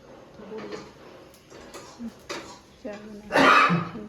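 A few scattered coughs and throat clearings, close up, ending in one louder, harsher cough.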